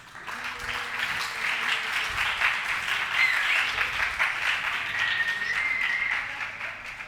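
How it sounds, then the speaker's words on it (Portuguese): A classroom audience at an exam-prep lecture gives a round of applause for a teacher, a steady, dense wash of clapping that holds for several seconds before tapering off. "Salva de palmas aí pro professor Eric"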